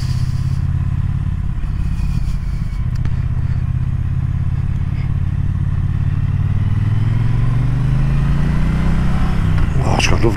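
A low-revving Triumph Bonneville T120 motorcycle engine rumbles steadily up close, its deep note gradually climbing in pitch as it picks up speed toward the end.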